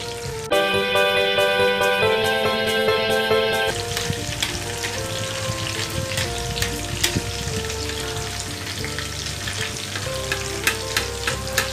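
Marinated pomfret fish frying in hot oil, a steady crackling sizzle with spits and pops heard under background music that drops away partway, no voices.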